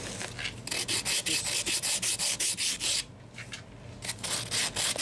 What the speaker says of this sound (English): just got a piece of sandpaper on a wood block